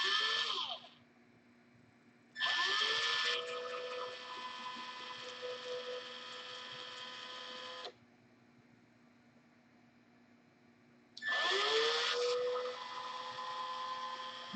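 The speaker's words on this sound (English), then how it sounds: "Have you any of you guys ever tried to drill with tubing?" Skived plastic tubing spun as a makeshift drill bit boring a hole, heard as three loud bursts of steady whirring and grinding separated by quiet pauses, with no talk.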